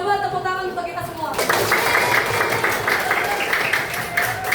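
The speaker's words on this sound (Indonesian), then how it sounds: "Coba tepuk tangan untuk kita semua." Students clapping together in a school classroom, a burst of dense, sustained applause that starts abruptly and fills the room at close range after a brief stretch of quieter sound.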